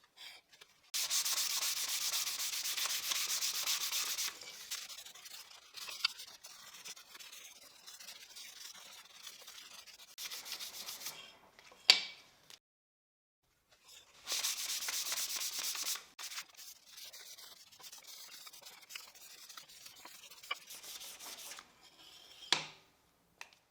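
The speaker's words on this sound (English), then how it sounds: "I'll hand sand with these two sandpapers, first using 320 grit, then an even finer one." Hand sanding of reclaimed wood with fine 320-grit and finer sandpaper: bursts of close, raspy rubbing strokes separated by quiet pauses and a couple of brief knocks, with no talk.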